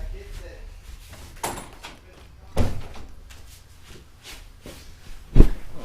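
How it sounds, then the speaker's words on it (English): A door is pulled shut indoors with two dull thuds and a final louder bang near the end, heard under a voice talking. "Hang on one second, I gotta close the door."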